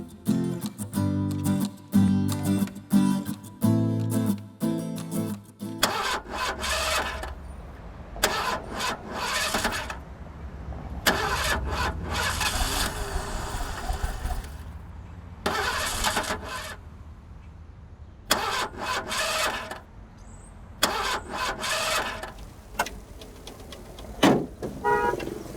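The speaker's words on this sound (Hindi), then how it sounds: "भाई तुम्हारी गाड़ी की बैटरी डाउन हो गई है, मैकेनिक को दिखाते हैं।" Car engine cranking repeatedly but failing to start on a dead, drained battery, a run of rapid starter whirs in quick bursts with brief gaps, fairly loud and close, with music underneath.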